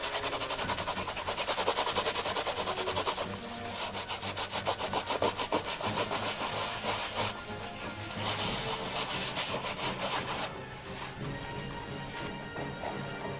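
Steady close rubbing on the surface of a child's handmade treasure box gives a rough, scratchy hiss that comes in continuous strokes, louder at first, then in slightly quieter bursts.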